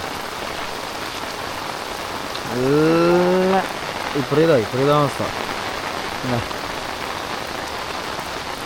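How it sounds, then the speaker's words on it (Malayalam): Heavy rain pours steadily throughout, a dense hiss with a voice briefly speaking over it in the middle. "ഭയങ്കര മഴയാ"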